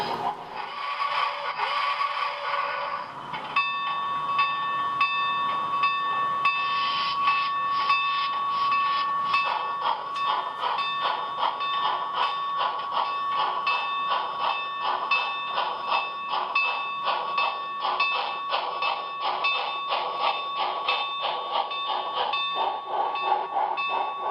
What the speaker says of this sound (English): I also found that this locomotive is very, very loud.